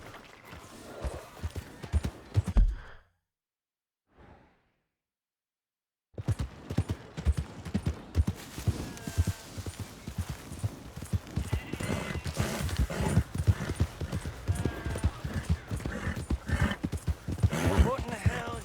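Rhythmic horse hoof clip-clops in Red Dead Redemption 2, running steadily under talking voices after a brief silent gap, fairly loud and close.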